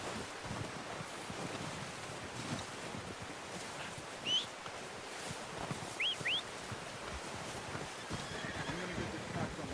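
A horse in the video game Red Dead Redemption 2 gives a couple of short whinnies amid wind and outdoor ambience, with soft hoof movement nearby.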